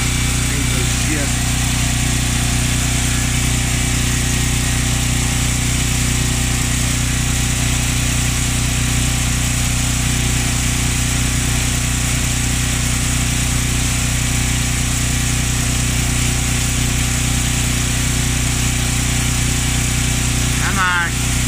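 A struggling washer runs its spin cycle with a loud, steady motor drone and a deep hum that holds for the whole stretch, with a voice heard talking over it.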